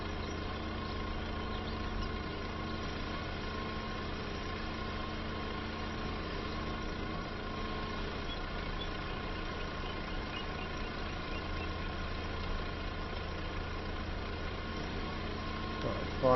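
A well-worn working tractor with about 250 hours and faded paint idles steadily in Farming Simulator 25, a constant low engine drone with a faint knocking texture running unchanged throughout, with no voices over it.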